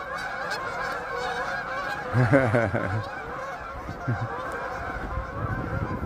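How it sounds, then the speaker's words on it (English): A large flock of geese taking off from a pond in Chicago in winter honks in a steady, overlapping clamor, with a brief louder burst of calls partway through. "Here comes all the geese taking off here from the North Pond."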